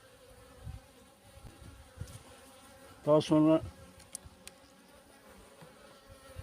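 Honey bees hum faintly and steadily inside a hive during winter while its space is being narrowed, a low buzz under a short spoken phrase near the middle.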